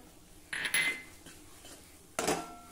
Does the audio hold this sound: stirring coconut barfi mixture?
yes